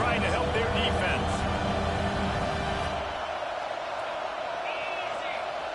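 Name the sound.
stadium crowd cheering at football game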